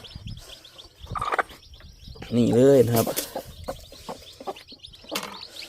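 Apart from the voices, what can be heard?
hen and chicks clucking and chirping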